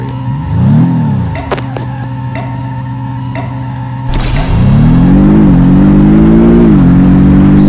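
A Bugatti Chiron in the Apex Racer racing game idles with a brief blip, then revs hard and climbs through a long, loud, rising engine drone that holds high to the end, with no talking.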